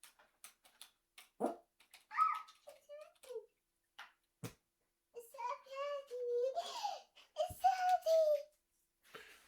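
A pet dog named Remy yips and whimpers in short bursts, then gives a longer whining, howl-like vocalisation near the end, close and fairly loud in a quiet room.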